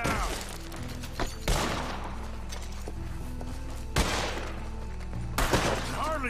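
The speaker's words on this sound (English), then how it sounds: "I can hardly see what I'm shooting at. If it moves, blast it." Gunfire in a nighttime shootout in the video game Red Dead Redemption 2: a few loud, sharp shots spaced seconds apart over a constant low rumble of background sound.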